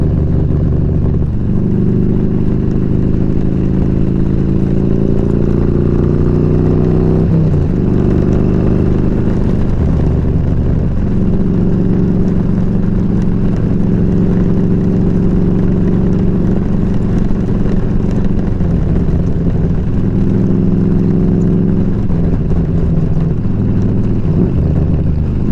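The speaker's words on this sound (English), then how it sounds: "He's got cams in that bike though, it sounds good." A cammed motorcycle engine thrums loud and close, its deep throbbing exhaust rising and falling through several revs with brief dips between pulls, without pause throughout.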